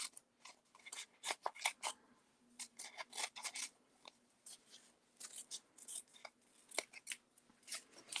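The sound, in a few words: scissors cutting around stamped paper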